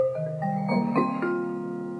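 Slowed down, the Animal Crossing New Horizons item-switch chime becomes a deep, drawn-out series of rising pitched tones that step upward and then settle into a sustained, fading note.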